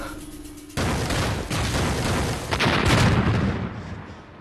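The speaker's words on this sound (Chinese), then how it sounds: "我跟黑山说过让他别开枪的，这要是把新城的鬼子炸了就麻烦了" Heavy gunfire and explosions in a war film about fighting the Japanese, loud rolling bursts that start abruptly and keep booming for several seconds.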